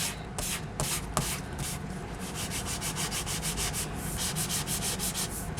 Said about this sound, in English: one way to do it is to use a sanding block, go straight up, and then down